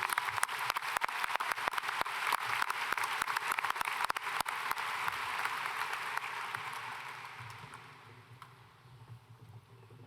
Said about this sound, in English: One more round of applause for our salutatorians